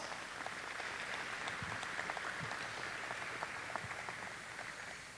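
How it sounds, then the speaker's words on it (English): An audience claps for parents at a 2020 Garland ISD athletic signing day event, a steady, dense wash of many hands filling the room for several seconds, no voices. "Give those people a round of applause"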